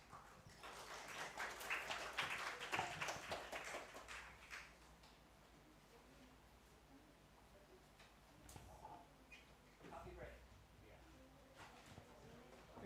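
An audience at an Indonesian educators' conference bursts into loud, dense applause for the presenter, which fades after a few seconds into a quiet room with scattered faint sounds and brief talk.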